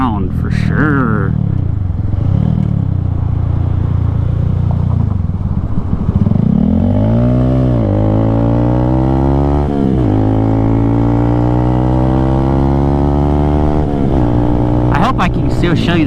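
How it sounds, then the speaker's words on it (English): A Lifan KPR200 motorcycle rides through neighborhood streets, its engine note droning and climbing through gears in smooth rising sweeps, steady and close, with wind rush underneath. "I'm just going to drive around through neighborhood streets."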